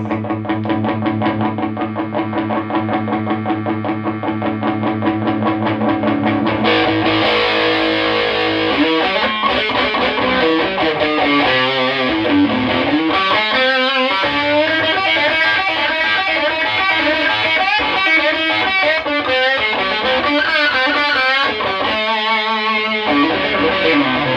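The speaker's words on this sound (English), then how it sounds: "Got a lot left in it, but it'll get quite buzzy because the amp's old, and the guitar's old, and the pedal's old." Overdriven electric guitar from a vintage Gibson Les Paul (SG) Junior through a Marshall Guvnor pedal into an old 100-watt Marshall amp, playing loud, continuous distorted riffs and chords with a buzzy edge.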